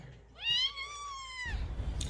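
A tiny kitten rescued from a rubbish bin gives one clear, high, drawn-out meow up close. Low rumbling handling noise follows.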